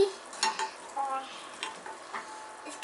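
Ramen soup stirred in a pot, with a spoon clinking and scraping against the metal in irregular light taps over a faint bubbling bed, close and fairly quiet.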